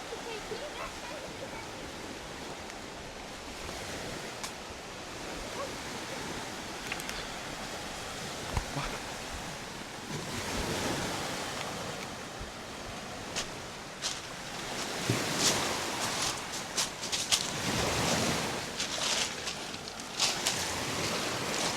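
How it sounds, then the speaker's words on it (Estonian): Large waves breaking on a beach at Tsitre on the Estonian coast, a steady broadband roar of surf with surges swelling louder toward the end; nearby voices occasionally rise above the wash. "Ja siin on täna suured lained, jah."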